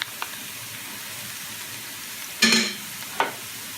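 Six cloves of minced garlic hit hot oil with softened, browning onions, giving a low steady sizzle and two sudden louder bursts of crackle and spatter near the end, with no talking.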